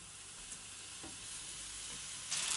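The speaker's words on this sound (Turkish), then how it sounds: "Yağımız tavada ısınınca köftelerimizi koyalım." Meatballs frying in hot oil in a pan, a steady close sizzle with faint stirring ticks and a brief louder crackle near the end.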